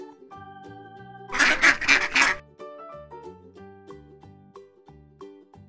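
Loud, rapid quacking from a cartoon duck rises briefly out of a gentle children's melody, which carries on softly after the burst ends.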